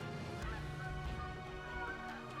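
A flock of geese honks repeatedly during a waterfowl hunt, overlapping calls in a noisy outdoor chorus at moderate distance, steady throughout.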